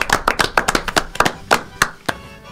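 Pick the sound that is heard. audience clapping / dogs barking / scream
audience clapping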